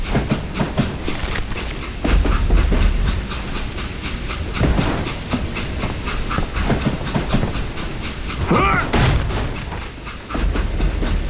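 Heavy train rolling on rails in the Western game Call of Juarez Gunslinger, a loud continuous rumble with rhythmic clickety-clack and metallic knocks, booming thuds mixed in, no voices.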